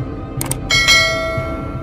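A notification bell effect rings out with a few quick bright chimes, then a sustained clear ding that rings and fades over about a second, close and fairly loud.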